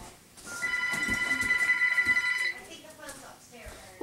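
A telephone rings indoors with a bright, steady electronic tone lasting about two seconds, fairly close and clear, then stops; low background noise and handling sounds surround it, with no speech over the ring.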